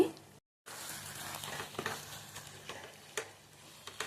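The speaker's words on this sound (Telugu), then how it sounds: "ఇప్పుడు కొంచెం వేసుకొని బాగా కలుపుకోండి." Chicken gongura curry is stirred and fried in a pan, a soft sizzle running underneath scattered scraping taps of a spoon, fairly faint and close, with a brief moment of silence early on.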